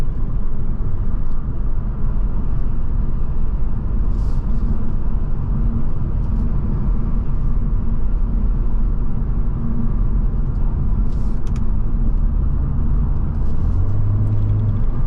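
Hyundai Veloster N with a dual-clutch gearbox, a steady engine drone and road rumble heard from inside the cabin, loud and continuous, with a small rise in pitch near the end.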